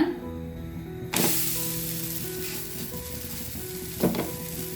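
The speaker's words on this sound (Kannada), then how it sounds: "ಇನ್ನೊಂದು ರೊಟ್ಟಿ ಕೂಡ ಅದೇ ಥರ ಬೇಯಿಸ್ಕೊಳ್ಳೋಣ" Drumstick leaf rice roti cooks on a hot pan with a soft, steady sizzle. A sharp hiss flares up as the roti is laid down, and a second brief flare comes a few seconds later.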